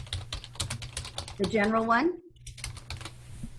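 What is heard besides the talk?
someone typing on a computer keyboard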